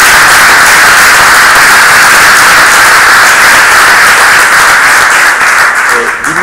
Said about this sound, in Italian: Quindi un applauso a tutti voi.